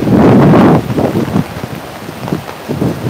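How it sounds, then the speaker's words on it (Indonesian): Heavy rain driven by strong wind roars loudly into the microphone, with a thick burst of noise at first and then gusty, uneven buffeting and pattering. "Ini hujan angin bener, parah banget."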